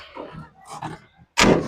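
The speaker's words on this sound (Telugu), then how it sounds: "ఈ డోర్ కూడా వేసేస్తా" A vehicle door on a luxury travel coach slams shut with a single loud, sharp thud at the end, after a stretch of quieter background sound and talk.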